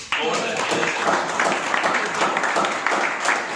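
A workshop audience in Meerut breaks into applause, a brisk clatter of many hands that starts abruptly and carries on steadily, close and fairly loud, with a little background talk mixed in.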